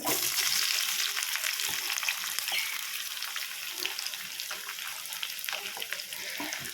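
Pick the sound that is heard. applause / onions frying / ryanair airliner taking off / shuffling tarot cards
onions frying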